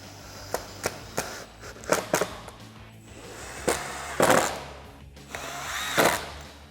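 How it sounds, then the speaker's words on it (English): Power drill driving screws into the channel of a RedRock 4x4 sailcloth soft top on a Jeep Wrangler JK 4-door: several short, sharp bursts spaced a second or so apart, close and fairly loud, with brief quiet gaps between. "you can go ahead and put the rest of the screws in and tighten everything down"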